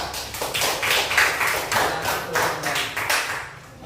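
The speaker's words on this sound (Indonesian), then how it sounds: "Tepuk tangan untuk kelompok 3" Pupils in a classroom clap for group 3, a steady patter of many hands close by, fairly loud and fading slightly toward the end.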